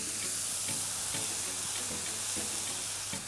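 Mushrooms sizzling and crackling in a hot cast iron pan, a steady dense hiss with soft periodic stirring scrapes, close and alone.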